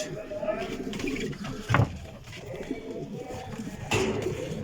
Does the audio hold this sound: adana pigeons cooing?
yes